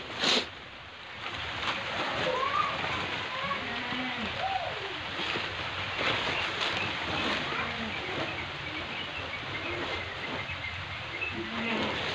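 Steady broadband rain hiss fills the whole stretch, a constant wash with small irregular patters and a brief louder knock near the start, with faint bird calls over it.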